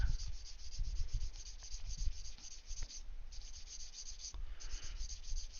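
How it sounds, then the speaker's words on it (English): Steady scratchy rubbing of sandpaper on a Gundam plastic model kit, close and continuous, with short back-and-forth strokes over a faint high hum. "doing some sanding like this for the unit"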